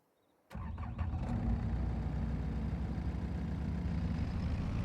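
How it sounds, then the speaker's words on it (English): Tractor in a farming simulator game: after a moment of quiet the engine kicks in abruptly and settles into a steady, loud, low diesel rumble as it drives off, with no talk. "Put the tractor away."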